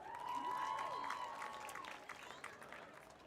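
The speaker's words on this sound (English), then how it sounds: "Let's hear it for Marissa Hamby" Crowd applause at a high school football game, a steady wash of clapping and some cheering from the stands, loudest at the start and slowly tapering, with an announcer's voice over it.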